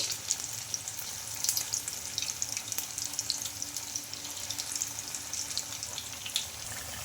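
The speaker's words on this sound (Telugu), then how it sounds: "ఆయిల్ కూడా హీట్ అయిందండి ఇంకా ఇప్పుడు వీటిని ఒక్కొక్కటి అయితే వేసుకోవాలి" Semolina (rava) pieces shallow-fry in hot oil in a kadai, a continuous fine hiss and crackle at a steady, moderate level, close by and without speech.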